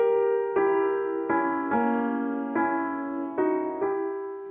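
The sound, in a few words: orchestral music excerpt, opera leitmotif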